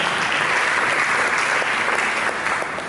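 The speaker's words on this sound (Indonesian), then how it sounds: "Berikan tepuk tangan bagi Tuhan" A church congregation bursts into dense, continuous applause that holds at an even level from start to finish, with no voices standing out.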